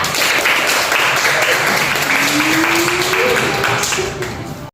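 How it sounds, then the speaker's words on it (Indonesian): Classmates clapping for a student named Dea in a classroom, a loud, continuous wash of applause filling the whole stretch, tapering slightly at the very end. "aplaus dulu untuk Dea"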